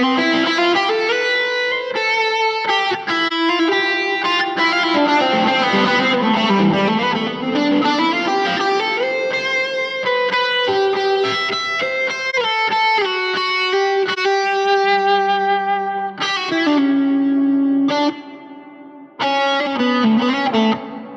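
An electric guitar plays through a Two Notes Torpedo Captor X with reverb on, giving a loud, continuous melodic line of ringing, sustained notes with long washy tails, briefly dropping out near the end.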